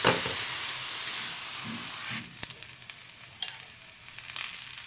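Thalipeeth sizzles in oil on a hot griddle, a steady close frying hiss with a few sharper crackles and pops toward the end.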